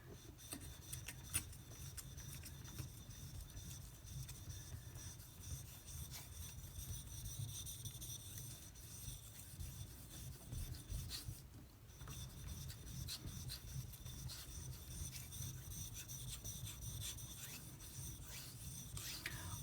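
A knife is sharpened on Japanese natural whetstones, Suita Renge and Green Oochie, with a quiet, steady rasping stroke that continues close and faint throughout.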